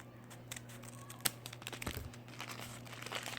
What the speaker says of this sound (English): Let me just use the scissors.